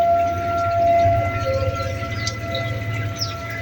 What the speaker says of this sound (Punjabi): ਖਤਰਨਾਕ ਸਾਇਰਨ ਵੱਜਦਾ